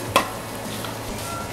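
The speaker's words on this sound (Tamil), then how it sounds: "இப்போ இந்த வெஜிடபிள்ஸ் எல்லாம் கொஞ்சம் நேரம் அப்படியே வதங்கிட்டு இருக்கட்டும் சிம்மில்." Vegetables sauté gently in a pan over a low flame, giving a soft, steady hiss throughout, with one brief clink of a utensil near the start.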